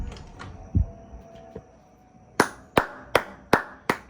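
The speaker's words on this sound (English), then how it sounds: "The clapping has started." Neighbours clapping outdoors during lockdown on a Friday evening: a few faint distant claps, then a run of sharp, close, evenly spaced hand claps with a quiet hum underneath.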